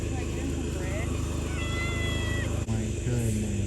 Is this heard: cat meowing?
yes